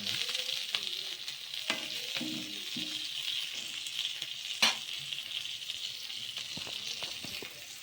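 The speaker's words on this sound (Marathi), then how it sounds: "हे बघा किती छान फ्राय झालेत बघा." River fish frying in a pan, a continuous crackling sizzle with scattered pops and occasional scraping stirs, close and fairly loud throughout.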